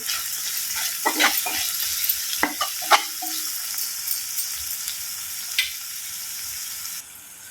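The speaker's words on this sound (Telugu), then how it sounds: "అల్లం వెల్లుల్లిగడ్డ పేస్ట్, ఒక స్పూన్ పైన కరివేపాకు వేస్తున్నామండి" Ginger garlic paste and curry leaves sizzle in hot oil for a tomato dry prawn curry, a bright crackling fry broken by clattering stirring strokes, then settling into a quieter hiss at the end.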